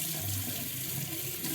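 Tap water runs steadily into a sink as a straight razor is rinsed off between sharpening on stones, a close, continuous splashing rush with no talk.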